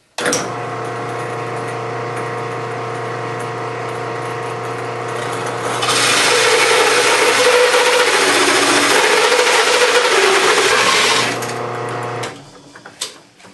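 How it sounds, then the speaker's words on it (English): Loud, steady whine of a power drill running a hole saw into wood, growing harsher and louder midway as the saw bites in, then winding down and stopping. "I've got the hole saw already set up. I just need to drill that hole."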